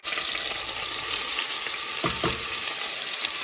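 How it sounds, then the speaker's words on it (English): Ground chicken and onion fry in oil in a preheated pot, giving a steady, close sizzle with crackling throughout and a couple of brief stirring knocks. "So I'm preheating my pot with a little bit of oil. I'm going to add the meat to it and the onion."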